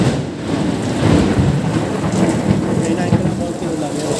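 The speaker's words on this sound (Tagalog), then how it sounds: "Ulan ay." Heavy rain pours down with thunder rumbling through it, a loud and steady downpour with low rolling booms underneath.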